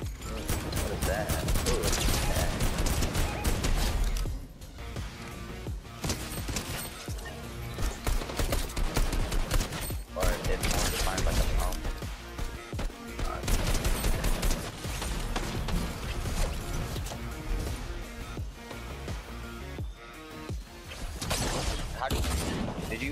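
Gold minigun spraying continuously in Fortnite, a dense rapid rattle of gunfire running almost throughout with brief pauses, loud and close amid other game sounds.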